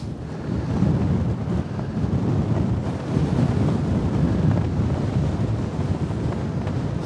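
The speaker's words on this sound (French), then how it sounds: "le vent est violent, les gars" Strong wind on a golf course buffets the microphone in a continuous, heavy rumbling roar with no pauses, loud and close throughout.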